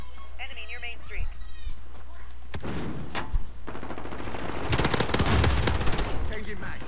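Gunfire in Call of Duty: Modern Warfare comes in sharp bursts and heavier automatic volleys that build toward the end, mixed with game radio voice lines and background battle noise.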